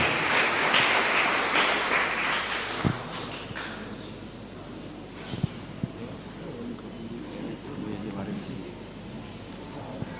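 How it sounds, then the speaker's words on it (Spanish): Congregation applauding at a chapel service, clapping strongest at the start and then thinning, with voices murmuring and a few sharp knocks and bumps in the room. "Fuerte aplauso para el Señor, especialmente para nuestra comunidad de Caacupemí"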